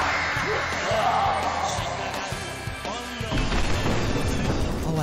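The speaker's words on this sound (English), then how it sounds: "Oh, it's a grenade launcher." The grenade launcher finishing move in the PS1 fighting game Kamen Rider Agito lands as a run of heavy booming impacts and crashes, loud and close over busy game audio and crowd-like noise.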